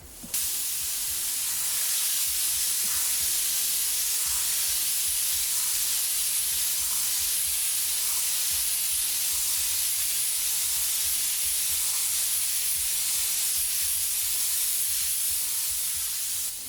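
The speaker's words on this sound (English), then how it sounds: "we're going to spray it right over top" An airbrush sprays medium gray paint onto sheet metal as a steady, bright, continuous hiss of air and atomized paint, close and unbroken for the whole stretch, with no talking.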